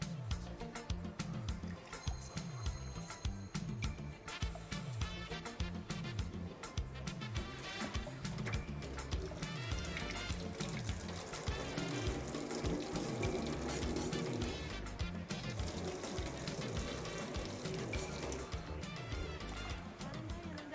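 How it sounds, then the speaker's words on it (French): Water running steadily from a tap as it is poured in to soak couscous for tabbouleh, a continuous close rushing hiss beneath busy background music, with no talk. "tu mets la même quantité d'eau"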